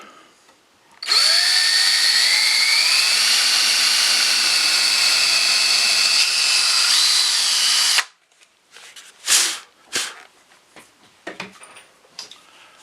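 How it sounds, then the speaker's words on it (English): Loud, close power drill whines steadily for about seven seconds while drilling down through the top of a wooden patio chair part, then stops, followed by scattered handling clatter and knocks. "We'll drill down through the top."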